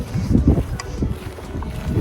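Gusty wind buffets the microphone with low, uneven rumbling bursts, loud and close throughout.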